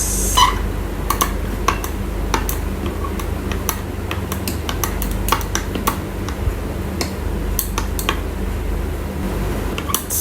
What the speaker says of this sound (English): So now I'm going to add the extracts and giving it a mix.